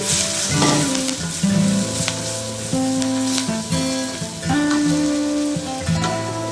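Curry leaves, chili powder and turmeric fry in hot oil for stuffed squid, a loud, steady close sizzle with occasional stirring scrapes.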